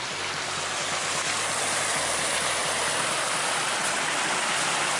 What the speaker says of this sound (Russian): А у нас просто здесь какой-то водопад образовался.